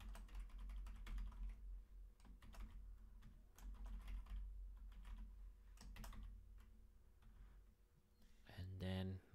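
A password is typed on a computer keyboard, with rapid, uneven clusters of close key clicks and short pauses, ending with a brief tonal beep.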